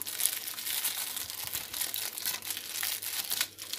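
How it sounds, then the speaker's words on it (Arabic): A plastic bag of fabric softener crinkles and rustles steadily while being emptied into water during a homemade softener batch, a close, continuous dry crackling with no talk. "هفضي الكيس كله"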